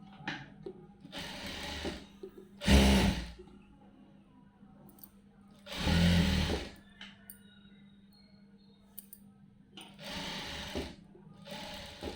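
A sewing machine stitches a blouse in short, close bursts of whirring with quiet gaps between, alongside soft handling sounds.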